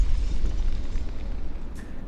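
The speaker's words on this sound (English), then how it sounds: "Sound of explosions come from the generator and then din of terrified voices." Deep rumbling explosions from a generator in the video game Frostpunk roll in a heavy, continuous low boom, with a brief sharp burst near the end and no speech.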